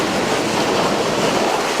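Hot tub jet pump 2, a Volcano Jet on an Arctic Spas tub, churns water on full blast, giving a steady, loud broadband rush and bubbling with no break throughout.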